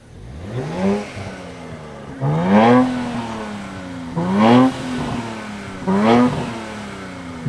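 A 2024 Nissan Z Nismo accelerates on throttle at the Sears Point racetrack, its engine note climbing steadily through repeated gear pulls, each ending in a sharp shift before rising again, loud and close.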